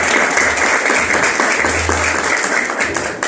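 A church congregation applauds together, a loud, full burst of many hands clapping that carries on steadily, with a low murmur of voices beneath it.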